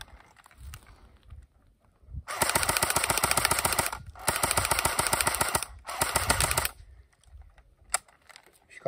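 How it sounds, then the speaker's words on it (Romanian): Three long bursts of rapid, buzzing full-auto fire come from a Cyma AK47 replica electric airsoft gun, close and loud, with quieter handling sounds before and after. "o să încercăm și pe modul full auto ca să auziți cum sună."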